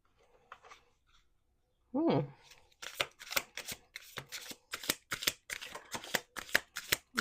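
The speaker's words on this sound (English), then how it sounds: "Let's do 2 more shuffles." Rapid riffle of playing cards being shuffled, a quick burst followed by a series of crisp, rhythmic flutters and taps, close and clear.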